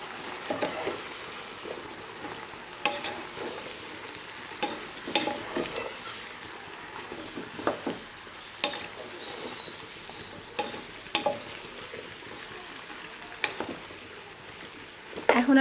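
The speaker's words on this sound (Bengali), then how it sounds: "এখন আমি বাকি মশলাটার মধ্যে লাউগুলা দিয়ে দেব। ভালো করে নেড়ে দেব।" Bottle gourd stirred into a frying spice paste, with a steady sizzle and repeated scraping strokes of a spoon against the pan, close and moderately loud, alone without talk.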